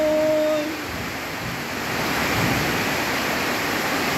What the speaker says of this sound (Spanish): Miren qué rica la lluvia.